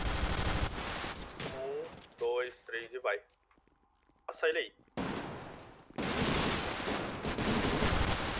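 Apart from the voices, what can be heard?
gunfire exchange in a video game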